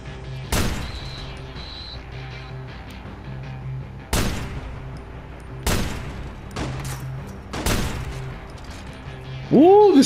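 Sniper rifle shots in Watch Dogs Bad Blood: four or five sharp, loud cracks spaced a second or two apart, each with a short echoing tail, over a low background hum, ending in a rising electronic tone.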